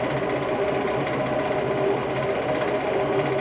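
A saw fitted with a new blade cuts straight through metal during basic machining. It gives a continuous, dense buzzing hum at an even level for a few seconds, close by, with no voices.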